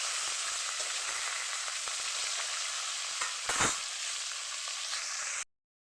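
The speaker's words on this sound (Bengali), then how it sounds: "ভালো করে ভেজে নেব মাছের মাথাটাকে।" A rohu fish head frying in hot oil in a pan: a constant crackling sizzle with a brief louder stir partway through, then an abrupt cut to silence.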